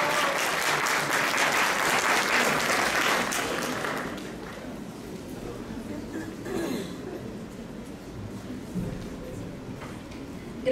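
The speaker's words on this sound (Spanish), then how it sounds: "un fuerte aplauso," Audience applause at an educational psychology conference: a dense, loud burst of clapping for the first few seconds, then thinning to scattered claps and soft room murmur.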